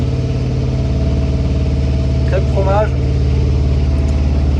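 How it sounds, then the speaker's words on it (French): The engine of the sailboat Kermadec drones steadily and loudly at a constant low pitch, with a brief spoken phrase passing over it midway. "avec le bruit du moteur"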